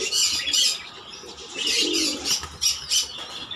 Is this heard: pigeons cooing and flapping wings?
yes